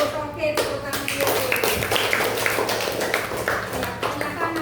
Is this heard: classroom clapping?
yes